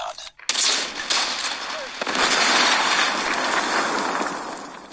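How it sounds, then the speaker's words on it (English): Predator missile strike in the Call of Duty Mobile video game, a loud broadband explosive roar that bursts in after a brief silence and rumbles on steadily for several seconds, with crackling, gunfire-like texture throughout. "Friendly predator missile inbound."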